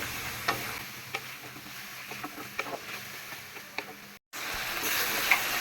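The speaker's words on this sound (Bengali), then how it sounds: "এক চুলাতে মাছটা কষানো হইতেছে" Fish heads frying with spices in a pan, a low steady sizzle broken by occasional sharp stirring taps, close but fairly quiet, with a brief dropout near the end and no talking.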